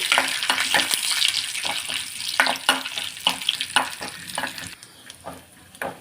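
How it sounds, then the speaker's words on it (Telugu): Almonds, cashews and raisins fry in a pan until golden, giving a steady crackling sizzle with repeated scraping stir strokes throughout. "ఇట్లా కలర్ వచ్చేదాకా వేయించుకుందామండి."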